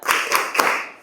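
Classroom pupils clap a short rhythmic ice-breaker cheer, three sharp group claps in quick succession, close and fairly loud with no talking.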